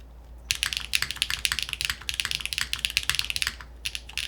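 Rapid, steady typing on a clacky Stratum-80 mechanical keyboard with loud space bars, heard up close with crisp individual keystrokes and a brief pause near the end.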